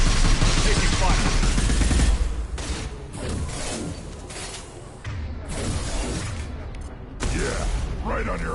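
Gunfire in the sci-fi game Mass Effect 2, a dense barrage of shots and shattering impacts that rarely lets up, loud and close, with voices talking amid the shooting.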